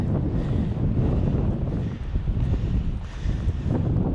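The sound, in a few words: wind blowing outdoors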